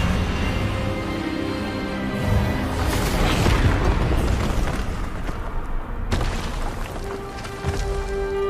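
An Expelliarmus spell cast in Hogwarts Legacy, a dense rumbling magical blast that swells and bursts over a dramatic game soundscape, with a sharp crack near the end.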